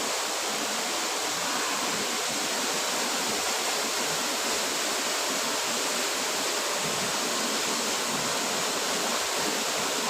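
Waterfall in a deserted rocky spot on a trek, steady loud rushing roar of falling water that fills the whole clip without pause.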